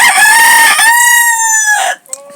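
A rooster crows loudly and close by, one long sustained cock-a-doodle-doo lasting nearly two seconds before cutting off, followed by a brief softer call from a farm flock kept with tiger hens.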